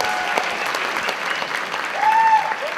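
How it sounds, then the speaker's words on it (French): An audience at a cosplay contest applauds with loud, dense, steady clapping throughout, and a thin whistle-like tone rises briefly near the end. "On peut l'applaudir, merci."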